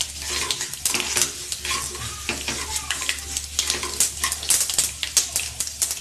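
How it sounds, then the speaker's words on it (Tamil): Black pepper dry-roasting in a pan, a continuous close rattling sizzle with rapid stirring scrapes and clatter of a spoon against the pan throughout, no talk. "போதும் மிளகு வறுத்தது போதும்."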